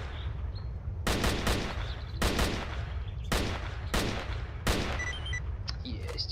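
Repeated bursts of gunfire in S.T.A.L.K.E.R.: Sigerous 2.2, coming in about five sharp volleys a second or so apart, loud over a steady low background hum.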